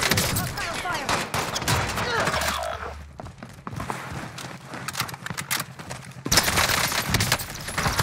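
Hostile gunfire in a first-person shooter game, with dense rapid bursts of automatic fire that keep up almost throughout and a loud volley returning near the end, while a player talks over it.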